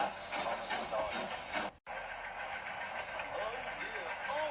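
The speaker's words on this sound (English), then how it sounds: "At last, Thomas started" Thomas the steam locomotive starts off in the Trainz simulator game, a steady hiss of steam and rail rumble running continuously at moderate level under a voice speaking, with a brief drop midway.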